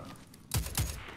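The Lionheart auto rifle in Destiny 2 fires two sharp, close shots in quick succession after a quiet lead-in.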